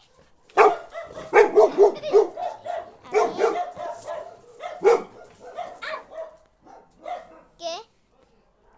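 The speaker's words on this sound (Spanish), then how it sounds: "ladra fuerte" A dog barks loudly in a rapid series of sharp barks and yips at close range, ending with a rising whine, with a brief spoken word in the middle.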